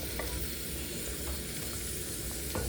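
Carrots and beans frying in a pan with ginger-garlic paste, a constant hissing sizzle with occasional soft clicks of stirring, steady and moderately close.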